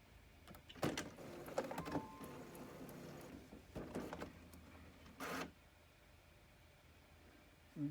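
An HP OfficeJet Pro printer with plain white paper loaded runs its mechanism in a few short whirring, motorized bursts separated by quieter gaps, close and moderately loud in a quiet room.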